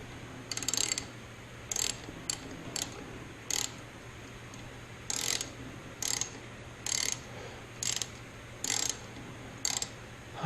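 A wrench ratchets on a bolt in the front subframe of a Jaguar MKII: short bursts of clicking repeat about a dozen times at a steady rhythm, close but fairly quiet, with no talking.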